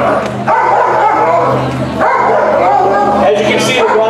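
Police K9 dogs bark and yelp excitedly at a handler playing the role of a chew toy, loud and close in rapid overlapping bursts with someone talking throughout.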